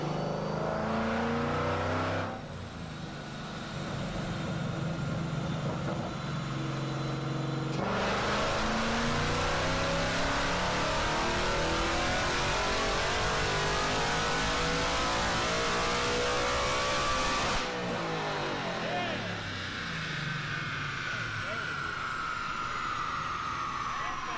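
A Ford Mustang engine runs on a dyno, rising and falling through several loud revving pulls with sweeping pitch changes and abrupt cutoffs, while people talk over the noise.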